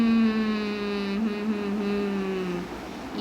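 A Hero Splendor motorbike rides along with a steady, buzzing engine drone close by, and its pitch sags slightly toward the end.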